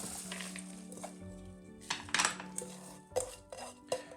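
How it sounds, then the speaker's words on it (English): Fresh cut kale drops into a large mixing bowl, a few soft clattering bumps and light clinks of the bowl spread over several seconds, close by and fairly quiet, with no talking. "We add the fresh cutted kales and into a large mixing bowl."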